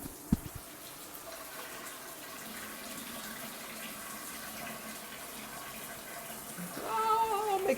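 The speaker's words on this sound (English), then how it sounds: "we've got water coming out of everything" Water gushing out of plumbing fixtures, a steady running hiss like an open tap, with a brief knock at the start and a rising squeal near the end.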